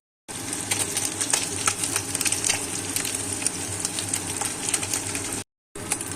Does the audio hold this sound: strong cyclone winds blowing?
no